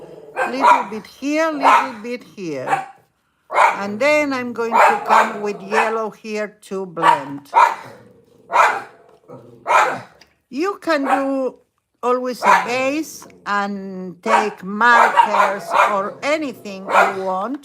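Several household dogs bark intermittently in the background of a home painting session for a carnival bird mask, mixed under near-continuous talking.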